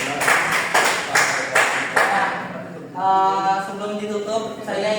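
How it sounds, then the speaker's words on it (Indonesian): A small classroom group gives a brief round of scattered claps for a student during a history lesson, then a voice starts talking as the clapping stops. "beri tepuk tangan kepada Mara."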